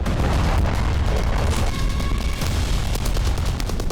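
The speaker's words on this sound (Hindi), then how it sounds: "बम धमाके हो रहे हैं" Continuous heavy rumbling booms with scattered sharp cracks from bombs in the Afghanistan–Pakistan conflict, a dense barrage of blasts going off nearby.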